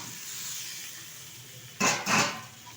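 Fried potatoes and pointed gourd drop into a spice paste frying in a pan, giving two loud bursts of sizzling and clattering after a quiet hiss.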